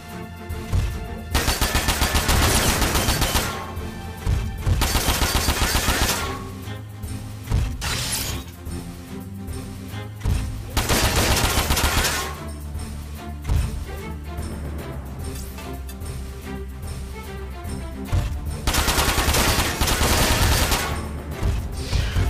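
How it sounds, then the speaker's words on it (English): Cannon fire in Front Mission 4 comes as repeated loud, heavy bursts with mechanical clanking, alternating with short quieter gaps over a long stretch of continuous battle noise. "That cannon is really starting to hurt."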